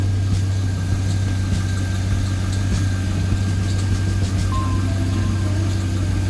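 A Corvette C5 engine idles steadily after a reservoir repair, a close, constant low rumble with no talk over it.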